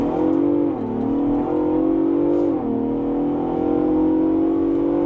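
A Ford Bronco Raptor engine and exhaust under hard acceleration, a loud steady drone that climbs in pitch with two brief dips at gear changes, heard from inside the cabin with no talk.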